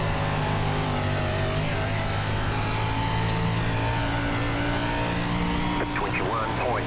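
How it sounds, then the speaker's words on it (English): A 305 sprint car races in iRacing Dirt at USA International Speedway with a damaged, left-pulling right front, its engine droning loud and steady under layered game engine tones, with a brief tire squeal near the end. "car's just really screwed up right now"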